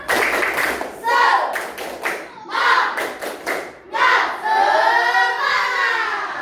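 Children in a classroom perform the rhythmic 'tepuk semangat' clapping chant, with patterned bursts of claps and taps alternating with chanted voices in short loud phrases.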